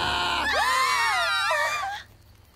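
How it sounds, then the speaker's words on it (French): A cartoon woman lets out a loud, sustained scream of about one and a half seconds. It wavers in pitch, then cuts off abruptly into quiet. "Elle se met à crier."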